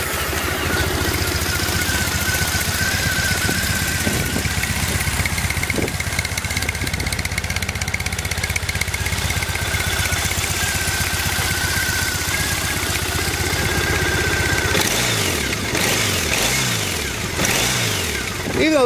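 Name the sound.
2009 Triumph Bonneville carbureted motorcycle engine idling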